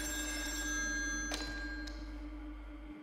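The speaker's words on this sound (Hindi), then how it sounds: "यहाँ से फोन की आवाज आ रही है।" An old telephone bell rings with a sustained metallic trill in Still Wakes the Deep, set on an offshore oil rig, over a steady low machinery hum, with a couple of faint thunks and no talking.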